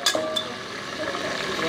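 Finely chopped onion frying in oil over a wood-fired stove for Kolhapuri kumbhar rakti mundi, a steady soft sizzle with a few metallic clinks near the start.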